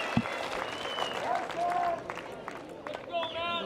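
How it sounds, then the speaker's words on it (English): Audience applause at the 2021 pickleball national championships, pro mixed doubles, as players are introduced: scattered clapping and crowd noise running beneath an announcer's voice. "let's hear a round of applause"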